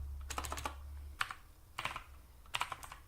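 Quick bursts of keystrokes on a computer keyboard while commands are entered during an Arch Linux install with LVM. The clatter is close and fairly quiet, in several short separated runs with brief pauses between them.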